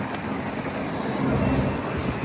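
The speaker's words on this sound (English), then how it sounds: "We're on the tram." Steady low rumble and broadband rolling noise inside a moving tram in the Netherlands, with a faint high whine from the motors, continuous and fairly close throughout.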